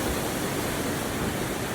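A river tumbling over waterfalls into pools gives off a steady, dense broadband rush, close and loud, with no voices over it.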